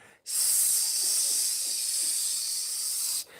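A voice mimics the steady hiss of a pressure cooker venting, a loud, continuous airy hiss that starts abruptly, holds for about three seconds and stops suddenly.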